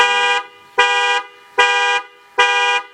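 A 2017 Toyota Fortuner alarm set off from the key fob button, four loud, evenly spaced horn blasts in a steady on-off rhythm, close and with no voices.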